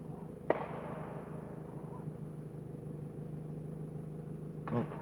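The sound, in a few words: distant gunfire from clay pigeon shooting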